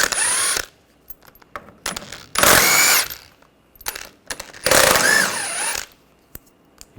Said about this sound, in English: We're going to take these bolts out. Use a 13mm socket.